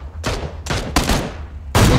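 In the video game Battlegrounds, four sharp, loud gunshots fire in quick succession, each a burst of noise with a short tail, close and without speech.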